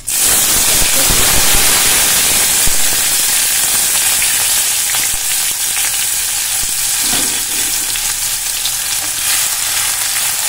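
Chopped onion and green chillies fry in a pan over medium flame, giving a loud, dense hiss of sizzling oil with stirring throughout, close up and with no voices.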